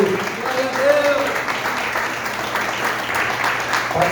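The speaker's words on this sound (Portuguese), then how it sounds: "palmas para Jesus" Church congregation clapping during a Sunday morning worship service, a steady dense wash of many hands held at a moderate level, with a faint voice briefly audible early and shouts or speech mixed beneath it.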